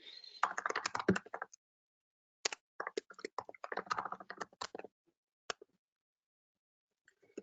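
Rapid bursts of computer keyboard typing, close and fairly quiet, with short pauses between runs and a few isolated key taps near the end.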